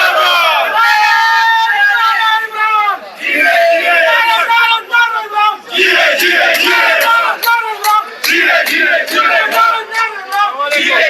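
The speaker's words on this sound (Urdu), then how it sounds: "وزیر اعلیٰ ہاؤس میں پی ٹی آئی کارکنان نے عمران خان کے نعرے لگا دیے ہیں" PTI party workers chant Imran Khan slogans in rhythmic unison inside the Chief Minister's House, a loud, close crowd shouting in repeated bursts with brief pauses between phrases.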